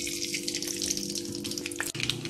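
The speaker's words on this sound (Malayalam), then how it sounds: "കടുക് പൊട്ടി." Mustard seeds spluttering in hot coconut oil in a pan, a steady dense crackle and hiss carried on with a sharp break near the end.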